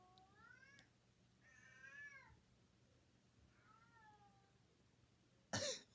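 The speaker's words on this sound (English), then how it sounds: "That was my cat." A pet cat meows three times indoors, drawn-out and fairly faint, against a quiet background, followed by a sudden louder noise at the end.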